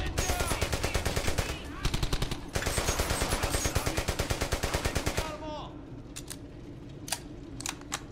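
Battlefield on PS3 delivers rapid, loud bursts of automatic gunfire in a tight rhythm for about five seconds, broken by one brief pause, then a quieter stretch with a few scattered single shots.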